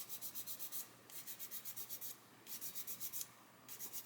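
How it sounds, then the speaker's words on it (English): Rhythmic back-and-forth sanding of Mr. Surfacer primer on a plastic model kit chassis cross member, close and quiet, in quick bursts of strokes separated by short pauses. "You can see on there I've got the Mr. Surfacer and I'm just sanding it away."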